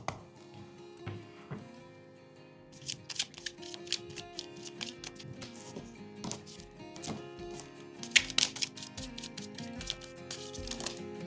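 Tarot cards being shuffled and drawn, close and quiet, with soft riffling and a run of crisp flicks and taps, no talking.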